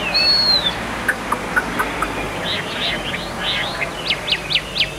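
A caged Chinese hwamei songbird sings with clear, whistled phrases and quick chirps, near and fairly loud over a steady background hiss. A rapid burst of repeated notes closes the passage.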